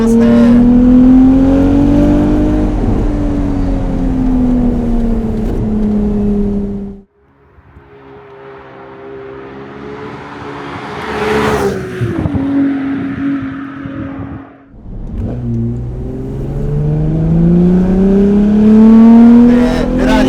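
Ferrari 296 GTS engine note reaching the open cockpit, a steady loud drone that rises and falls with throttle, dropping back around the middle before building again; a voice talks over it throughout.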